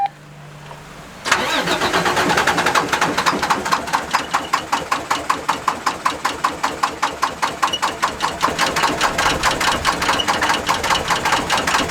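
A car engine cranks over and over as someone tries to get it started, a steady rapid rhythm of starter pulses running close and loud after a brief quiet opening, with no engine catch.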